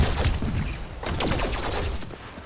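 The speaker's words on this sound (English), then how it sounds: "she has like twin laser pistols. They're short range. But she can fire in two directions." Twin short-range laser pistols fire in a survivors-like video game as a dense, rapid volley of overlapping synthetic shots that continues for the whole stretch at steady volume.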